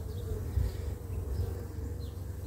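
Buckfast honeybees buzz around the frames of an open hive near the queen, a dense, continuous low drone from many bees at close range, steady and unbroken with no talking.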